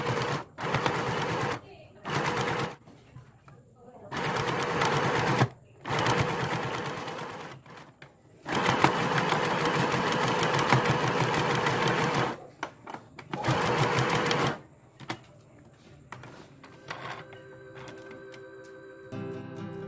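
Sewing machine stitching fabric for a thrifted bustier top, running in several loud close bursts of steady whirring separated by short pauses, with quieter handling sounds near the end.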